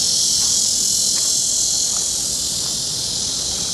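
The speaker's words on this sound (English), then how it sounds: "As you can hear what I think are some very loud katydids." Very loud katydids calling in a steady, dense high-pitched buzz that fills the whole stretch, heard along an unrestored section of the Great Wall at Shanhaiguan, with no voices over it.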